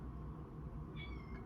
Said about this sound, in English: one of my cats just came in.